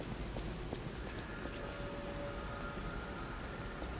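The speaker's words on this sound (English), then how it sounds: "You're damn straight it's a rainy night." Rain at night in the video game Lies of P falls as a faint, steady patter with scattered drop ticks and a thin background hum.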